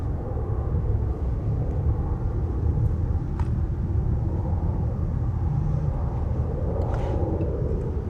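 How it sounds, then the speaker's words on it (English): A private jet flies over, a steady broadband rumble of jet engine noise holding at a constant level throughout, fairly loud and continuous, with no one talking. "Now that private jet, Bubba."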